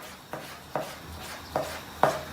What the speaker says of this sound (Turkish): Hemen tavuğumuzu doğruyoruz